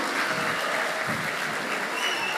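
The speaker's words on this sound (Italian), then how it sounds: "fatevi un bel applauso" A large audience of about 500 in a hall at a Polizia di Stato event at the Barcolana applauds itself, a dense, even, continuous round of clapping.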